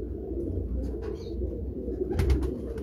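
Pigeons of an original 1979 breed line keep up a low, steady cooing, with a few brief fluttery sounds partway through, heard close with no talk.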